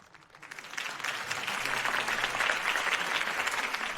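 A crowd in Batman: The Telltale Series applauds after a campaign speech, the clapping swelling quickly from quiet to a steady, dense roar that lasts several seconds.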